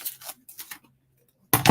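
Scissors snipping in a craft session, a few short close cuts near the start and a louder burst of cutting at the end with quiet gaps between.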